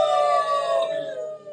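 A human voice imitates a dog's howl, one long sustained wavering note that slides downward, loud and close.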